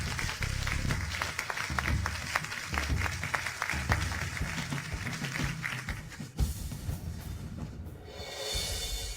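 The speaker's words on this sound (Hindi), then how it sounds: "अब चलिए जोरदार तालियों के साथ स्वागत करते हैं" Applause from a conference audience welcoming a project leader, sustained clapping throughout with a brief dip near the end, moderately loud and close.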